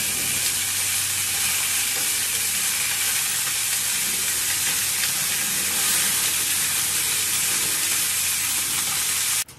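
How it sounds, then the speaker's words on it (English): Pork ribs pan-sear in hot oil for sweet and sour pork ribs, giving a loud, steady, close sizzle and crackle that runs unbroken before cutting off abruptly at the end. "they were all just pan-seared"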